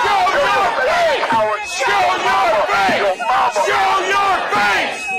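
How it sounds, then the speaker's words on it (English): An angry, raucous protest crowd in Minneapolis shouts and jeers at officers on the ground, loud overlapping yells and chants filling the scene without a break. "So very, very angry crowd, very raucous crowd, really getting after these officers on the ground."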